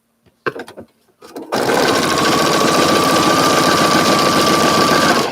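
A few light handling clicks and rustles, then a sewing machine starts up and runs at a steady fast hum, stitching fabric for a Christmas quilt block, loud and close with no talking.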